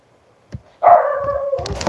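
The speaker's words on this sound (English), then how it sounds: "He's barking in such a way that I think somebody might be here." A dog barks in a drawn-out, howling way, preceded by a brief yelp, close and fairly loud with no talking.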